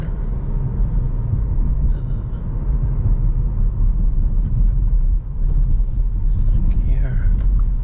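An Audi S3 8Y driven at night in comfort mode, with a steady low road and engine rumble throughout from inside the cabin and a faint navigation voice now and then.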